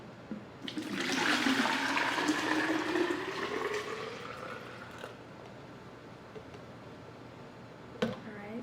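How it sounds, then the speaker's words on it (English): Homemade lemonade pours into a pitcher, a close, steady liquid rush that swells in the first seconds and then trails off into a quieter trickle, ending with a small clink. "here, I'm going to pour it."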